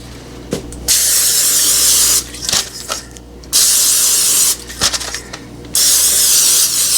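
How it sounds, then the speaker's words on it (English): Cooking spray hisses from a can onto the sides of a parchment-lined cheesecake pan, three loud sustained bursts with brief pauses and light clatter between them. "I'm going to spray the sides with the pan"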